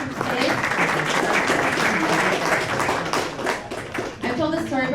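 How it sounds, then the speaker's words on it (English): A meetup audience gives the event sponsor a thick round of applause, many hands clapping together loudly, then the clapping thins out and fades near the end. "Round of applause for improving and sponsoring today."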